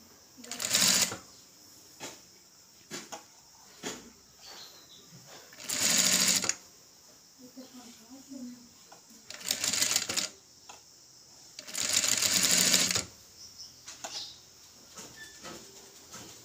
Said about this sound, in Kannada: ನಾನು ಎಲ್ಲ ಕಡೆ ಒಂದೇ ಲೆವೆಲ್ಗೆ ಸ್ಟಿಚ್ ಹಾಕ್ತಾಯಿದ್ದೀನಿ